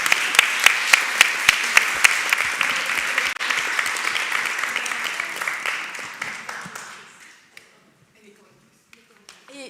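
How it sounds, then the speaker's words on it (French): An audience applauds at a conference presenting a white paper on women, sport and governance: dense, steady clapping with a few sharp, close claps, thinning out and dying away to near silence after about seven seconds. "je voudrais aussi qu'on applaudisse nos stagiaires sans lesquels ces livres blancs n'existeraient pas."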